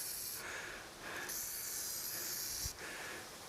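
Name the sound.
spraying WD-40 onto tractor seat mounting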